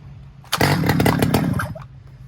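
A chainsaw bought at auction, run after choke and fuel, revs up suddenly into a loud, close, rasping two-stroke whine for about a second and a half before easing back toward idle.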